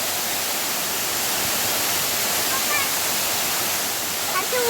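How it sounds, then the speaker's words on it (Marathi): A waterfall in the Sahyadri mountains at the source of the Shivganga river, a dense, steady roar of falling water filling the scene close up, broadband and unbroken throughout. "हा सह्याद्री पर्वतातला धबधबा आहे शिवगंगा नदीचा उगम आहे"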